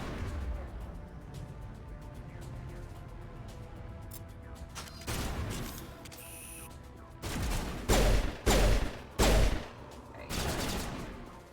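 Sniper rifle fire in Mass Effect, a handful of sharp, heavy shots, with four loud cracks clustered close together near the end, set against quieter battle ambience with a voice speaking in places.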